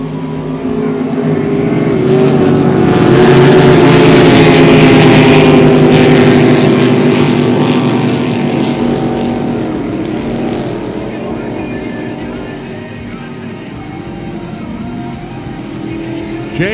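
Sprint race boats powered by small block Chevrolet engines roar off together at a race start, a loud droning blend of engines swelling to a peak and then fading as the field moves away, with a commentator talking over it.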